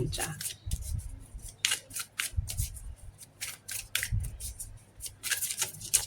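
A deck of tarot cards is shuffled up close in quick, papery bursts that repeat irregularly while someone talks over them.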